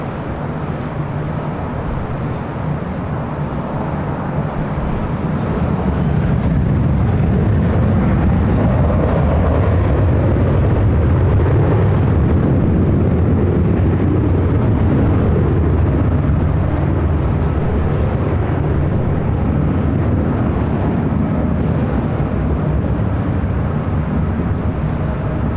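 A Delta airliner takes off from runway 24 left at LAX, a loud, sustained jet roar that swells after a few seconds and rumbles on steadily throughout.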